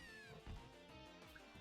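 A cat-type Pokemon cry from the game Pokemon Photonic Sun, a short synthesized meow-like call that rises over steady game music.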